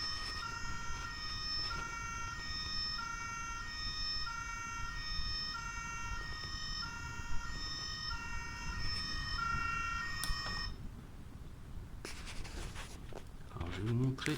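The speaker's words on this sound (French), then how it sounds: "Vous avez aussi la sirène." Playmobil 9360 City Action toy police van siren, a thin electronic two-tone wail cycling steadily for about ten seconds before cutting off, over handling noise.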